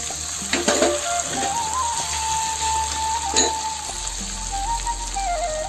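Chopped tomato with turmeric, chili powder and salt sizzles steadily in a pan for a vegetarian fish-style curry, a continuous hissing fry with occasional stirring clinks close by.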